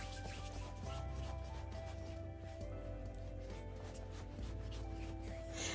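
Dollar Tree air dry clay is rubbed by hand, producing a continuous close, dense rubbing and squishing texture with no pauses.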